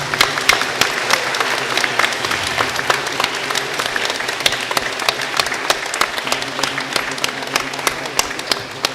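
A congregation at a Christian healing service breaks into sustained applause, dense overlapping claps from a large crowd in a hall, loud and steady throughout with a few sharper claps standing out.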